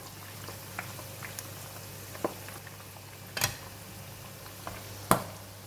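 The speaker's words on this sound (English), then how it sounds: "Frying the pork belly, need to be careful because it splash a lot." Pork belly deep frying in oil: bubbles and hisses softly with a steady sizzle, punctuated by a few sharp pops and spatters.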